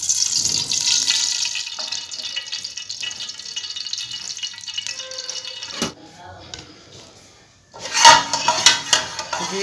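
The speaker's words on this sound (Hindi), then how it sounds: "सबसे पहले 1 कप हमने इसमें घी डालना है" Ghee poured into a cooking pot in a home kitchen, a soft liquid hiss and spatter mixed with metallic clinks of utensils, brief clatter near the middle and a louder burst of pan and spoon sounds toward the end.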